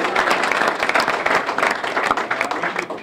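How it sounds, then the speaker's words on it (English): Audience applause at a high school signing ceremony honoring a student athlete: brisk, dense clapping from a crowd, loud and continuous through the whole short stretch. "let's give Rhonee Shea Pal a round of applause"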